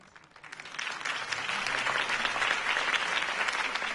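Steady applause from a crowd fills the air after a campaign speech for a city election, swelling quickly and holding loud and even with no talk over it.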